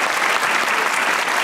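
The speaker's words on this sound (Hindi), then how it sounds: "उर्वा के लिए तालियां" A studio audience at a comedy talk show gives dense, steady applause that is loud and close throughout.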